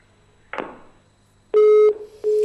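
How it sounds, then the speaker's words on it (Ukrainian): A dropped phone call on a live broadcast line ends in a click, then a loud, steady electronic tone and a second shorter tone, the sound of a disconnected line. "Зірвався телефонний дзвінок"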